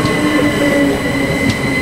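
A British Rail Class 357 electric train passes through Benfleet station, giving a loud, close, continuous rumble of wheels on rails with a steady metallic hum.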